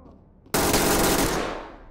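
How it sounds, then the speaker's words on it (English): Sustained automatic gunfire in the tactical shooter game Ready or Not bursts in suddenly after a quiet moment, a loud, dense rattle of rapid shots that holds steady, then slowly fades toward the end. "You're getting shot at from somewhere."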